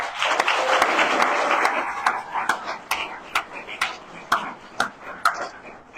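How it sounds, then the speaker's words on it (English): Audience applause at a police awards ceremony, dense clapping at first that thins into scattered, separate claps, moderately loud in a large room. "so a round of applause as well"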